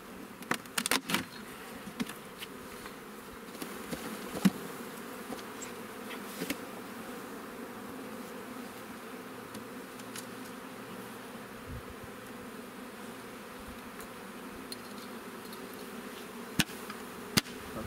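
Bees hum and buzz steadily around the hives, with occasional sharp taps and knocks standing out against the drone.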